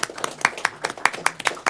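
Hands clap in a brisk, uneven burst right after an oath of office is sworn at a park district board meeting, a few people clapping close by in a quiet room, with a voice faintly mixed in.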